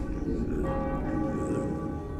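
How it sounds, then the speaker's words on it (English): A bell rings in the video game The Path, a sustained tolling tone over a dense, constant ambient bed. "Hey, that's not a good bell sound."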